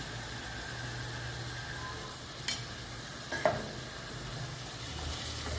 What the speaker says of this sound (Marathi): हे दोन्ही घालून झाल्यानंतर आपण छान आता ते हलवून घेऊयात